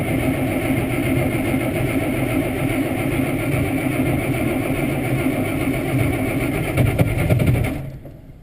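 Kubota M7 tractor diesel engine running after a cold start, idling steadily and loudly up close with a rough mid-pitched rumble before cutting off abruptly near the end.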